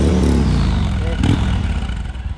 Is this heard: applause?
no